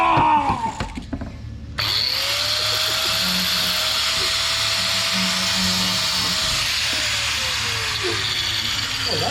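Handheld grinder fitted with a plastic grinder blade, worked on a car during a Bosozoku-style AU build, whirs steadily for most of the clip after a brief quieter start, with a faint voice early on.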